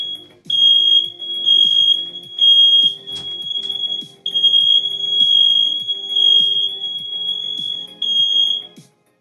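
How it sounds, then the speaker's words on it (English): An indoor fire alarm triggered by cooking shrieks in loud, high, piercing bursts with short gaps between them, repeating close by for about nine seconds before cutting off, with no speech over it. "We got a fire alarm going off."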